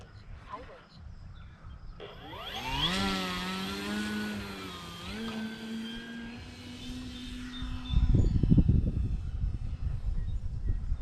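An RC model airplane's motor spins up for takeoff, a whining tone that climbs in pitch and holds steady. Rushing wind noise swells near the end, and a voice is faintly present.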